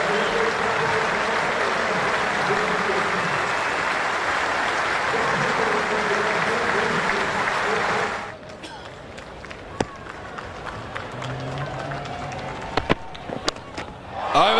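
At a Test cricket match between Australia and New Zealand, a large stadium crowd rises for Kane Williamson with sustained, dense applause and cheering. It fades after about eight seconds into scattered claps and a live commentator's talk.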